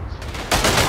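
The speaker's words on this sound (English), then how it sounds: "There's always this one guy with a machine gun around the corner, isn't it?" Machine gun fire in the World War I shooter Verdun, a short loud rattling burst of rapid shots that swells up abruptly, with no voices.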